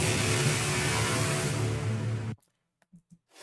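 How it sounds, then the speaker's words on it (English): A Cashmere war horn sample sounds as a loud, sustained, brassy low tone for about two seconds, then stops abruptly, followed by brief talking. "So this is just Cashmere war horn."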